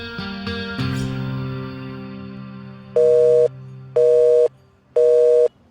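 A phone call fails to connect: tones ring out and then three loud, evenly spaced busy-signal beeps follow, each about half a second long.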